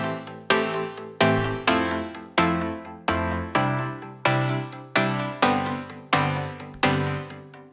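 An EDM synth chord progression played as a sustained rhythmic pattern: about a dozen bright chord stabs in an even, repeating pulse, each swelling and decaying into the next, loud and alone.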